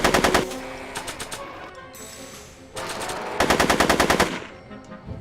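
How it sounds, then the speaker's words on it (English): Bursts of automatic gunfire ring out in several rapid volleys separated by short pauses, loud and close, with no voices over them. "Are you shooting at me?"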